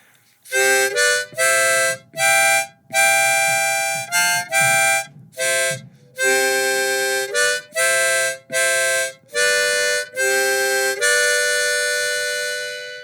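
Harmonica chords played slowly, about a dozen sustained reedy blows and draws separated by short breaths, close and clear with no voice.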